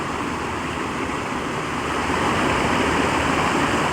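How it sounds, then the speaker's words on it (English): A small waterfall on a creek rushes steadily, a constant close splashing roar that grows slightly louder partway through. "A lovely little waterfall."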